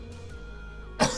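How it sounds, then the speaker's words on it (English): A single short, sharp cough near the end, close and clear after a quiet stretch. "Sorry, I have a cough."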